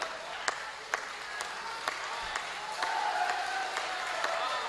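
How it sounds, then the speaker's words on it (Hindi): Light, scattered applause from an audience at a Hindi poetry gathering, a thin patter of clapping punctuated by a few sharper claps, fairly faint. "आपकी तालियां अभी भी कमजोर हैं।"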